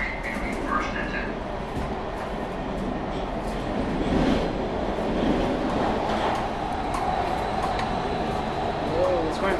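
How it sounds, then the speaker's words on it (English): A fast-moving passenger train rumbles with steady broadband roar and faint rattling throughout, heard from inside the carriage, with a few brief voices and station-announcement-like sounds early on. "Train's going fast."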